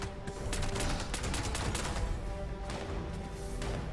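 A Gauss pistol fires in Fallout 76 during a fight with the Queen, with rapid, overlapping bursts of shots and impacts crowding together in a loud, continuous barrage.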